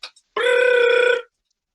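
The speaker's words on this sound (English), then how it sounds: "The phone ring." A single electronic telephone ring, a steady buzzing tone that lasts about a second and sounds clear and close on its own, after a brief faint click.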